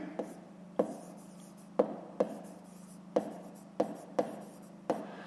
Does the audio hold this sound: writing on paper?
yes